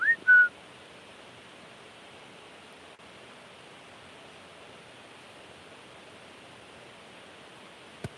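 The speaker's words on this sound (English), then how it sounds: "Who is outside whistling?" A brief two-note whistle from someone outside opens the clip: a short rising chirp and then a flat tone, after which only a constant outdoor hiss remains, ending in a faint thump.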